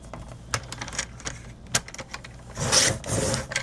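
Paper handled on a paper trimmer with light taps and shuffles, then a sustained rasping slide as the blade cuts through the sheet near the end; close and clear with no speech.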